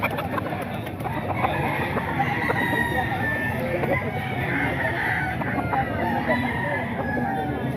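Roosters crow among clucking chickens for sale at a busy Grotto tiangge market, with the calls rising over a dense wash of crowd murmur and background chatter.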